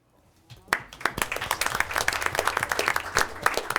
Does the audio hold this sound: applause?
yes